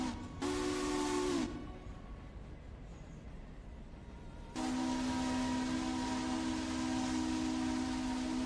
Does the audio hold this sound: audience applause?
no